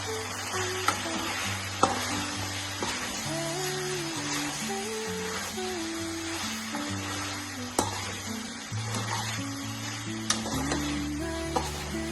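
Chicken fry with chili powder being stirred in a pan, a soft continuous sizzle with scraping stirs over steady background music, no talking.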